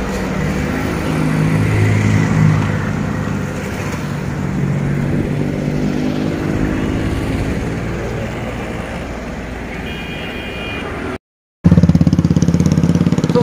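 Motorcycle or similar road vehicle engine running steadily on a highway bridge, a continuous mid-loud drone that holds for the whole stretch, briefly cut by a gap of silence before resuming louder.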